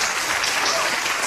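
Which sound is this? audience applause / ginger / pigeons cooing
audience applause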